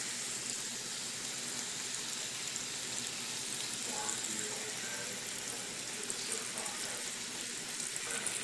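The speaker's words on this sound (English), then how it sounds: "So I'm just going to let them sit there for a while and cook." Cajun chicken pieces fry in a pan, giving a faint, steady sizzle and hiss that carries on evenly throughout.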